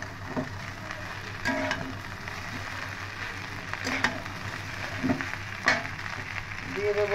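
Egg and onion fry with pasta in a pan, giving a soft, steady sizzle broken by scattered scrapes and taps of a spatula, fairly quiet and with no talking.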